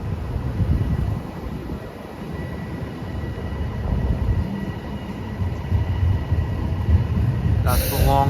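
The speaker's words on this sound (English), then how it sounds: "That's the Long Island Railroad to Port Washington." A Long Island Rail Road commuter train to Port Washington rumbles past in Flushing, Queens, with low, heavy rolling noise, fairly close and continuous, ending with a brief high metallic squeal.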